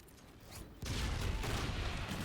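A grenade explodes in the shooter game Call of Duty: Infinite Warfare, a sudden loud blast that gives way to a sustained rumbling roar with no voices.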